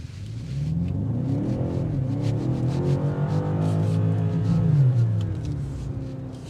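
A 2025 BMW M5 with 717 horsepower accelerates hard from inside the cabin, its engine note rising steadily in pitch through the gear in a loud, continuous growl, with no talk over it.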